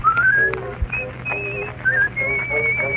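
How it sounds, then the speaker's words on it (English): A woman whistles a lilting tune on a 1914 Edison celluloid cylinder recording of a comic ragtime song. Her thin, pure notes slide and trill over a steady low hum and crackly surface noise. "girl's taking a chance when she whistles like this"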